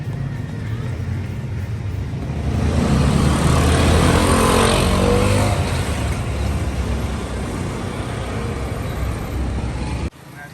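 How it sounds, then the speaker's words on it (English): Steady road traffic, with mopeds and motorbikes passing through a small lakeside town intersection, swelling louder around the middle and then settling into a continuous hum before cutting off abruptly. "everybody here has a moped or a motorbike"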